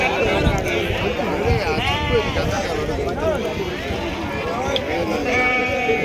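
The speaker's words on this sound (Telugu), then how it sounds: "గొర్రెలు అంగడి బాగా మంది వచ్చినారు" Many sheep bleat repeatedly and loudly at a busy Sunday sheep market in Mallapalli, with a crowd's chatter and movement mixed in throughout.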